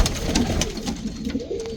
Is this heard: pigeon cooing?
yes